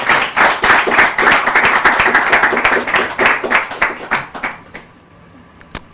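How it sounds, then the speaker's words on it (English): Audience applause at a church Bible contest between Salvation Army Church and Divine Healers, loud rapid clapping that holds for about four seconds, then thins into scattered claps and a final lone clap. "A round of applause for him."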